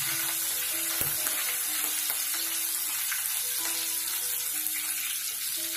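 Green chillies frying with cumin in hot oil in a pan for Maharashtrian amti dal, a loud continuous crackling sizzle with occasional stirring clicks and no talk.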